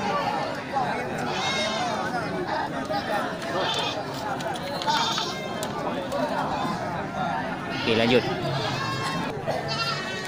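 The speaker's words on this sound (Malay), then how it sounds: "Ya, kambing indukan ini anaknya sudah besar tapi masih netek ya." Goats bleat repeatedly among a crowd at an Indonesian livestock market, mothers and nursing kids among them, with hooves shuffling and people talking throughout.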